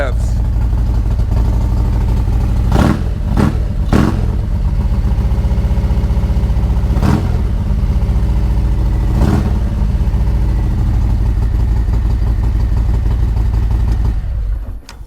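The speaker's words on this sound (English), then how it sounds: "And here we go, a few revs." A Ducati Scrambler Sport Pro 1100 fitted with a Termignoni exhaust idles loudly and close, blipped through several sharp revs in a cluster and then two more spaced bursts before cutting off.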